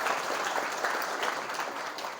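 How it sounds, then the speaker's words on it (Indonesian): A seminar audience at a public speaking session claps in a steady, moderately loud burst of applause that fills the room briefly. "Tepuk tangan buat kakak kita hari ini."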